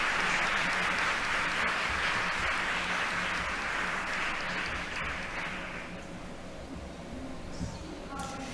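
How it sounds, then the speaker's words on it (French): Audience applause fills a conference plenary hall celebrating a program's legacy: a dense, steady clapping roar that holds for about six seconds, then thins and fades into a quieter room. "il faut mériter des applaudissements"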